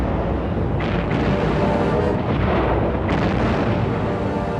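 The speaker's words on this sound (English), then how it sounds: "Now all the big guns open up with a huge barrage to soften up the German emplacements and beach defences." A heavy D-Day bombardment from big naval guns pounds German beach defences in a continuous, dense roar of deep booms and rumbling blasts that never lets up.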